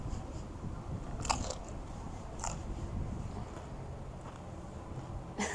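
Crunchy bites and chewing of a bean dip, probably with chips, come through up close as a few sharp crunches spaced over soft mouth sounds, with no talk.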